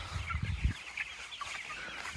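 Chickens clucking on an open pasture, a few short low clucks close by at the start, then quieter scattered bird calls and faint background sounds for the rest.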